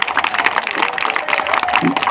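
A village crowd at a Ganesh Puja gathering claps steadily, a dense, continuous wash of applause lasting the full couple of seconds.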